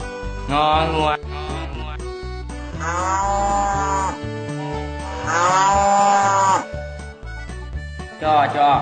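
Cow mooing set inside a children's Lao and Thai alphabet song, with several drawn-out, wavering moos over a steady musical backing, fairly loud and close.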